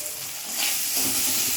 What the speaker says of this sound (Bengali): এই যে গরম হয়ে গেছে তেলটা, আবার কড়াইটা আবার আওয়াজ হতে শুরু করেছে।